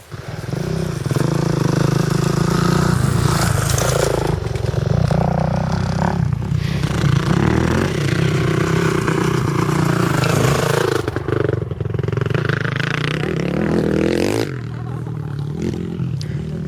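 Motorcycles ride past on the Blorenge, a loud, sustained engine roar with revving and some clatter that continues for about fourteen seconds before dropping away.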